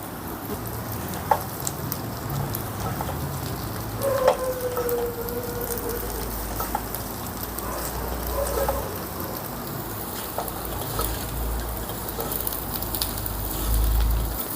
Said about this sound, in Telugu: ఇప్పుడు మనం మసాలా కారపొడి వేసాం కదా స్టవ్ని లో ఫ్లేమ్లో పెట్టుకొని ఒక రెండు నిమిషాలు ఫ్రై చేసుకుందాం